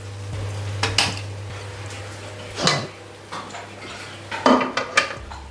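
Large metal pots and a big pressure cooker are handled in a home kitchen, with several close clanks and scrapes of metal against metal separated by brief quiet spells.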